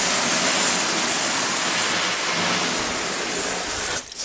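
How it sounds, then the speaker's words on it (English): Steady hose spray of water drenching a hybrid car's taillight and trunk lid during a leak test, a loud continuous hiss that cuts off abruptly near the end. "So I'll keep spraying it until we see, hopefully, see some water come in through here."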